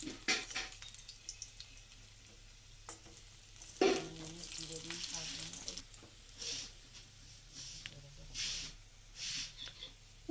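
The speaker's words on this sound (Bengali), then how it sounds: "এবার নাড়াচাড়া করে একটু লালচে করে ভেজে নেব" Potato pieces frying in a pan while being stirred, a soft continuous sizzle with scraping and clattering utensil strokes, a louder knock near the middle and bursts of hissing toward the end.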